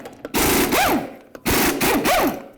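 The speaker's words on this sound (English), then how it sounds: "We're going to remove all 6 of them using a 22mm socket." Lug nuts come off the front wheel of a 1988-2002 GMC Sierra 1500 pickup with a 22mm socket on a power impact tool, two loud close whirring bursts each about a second long with a brief pause between them.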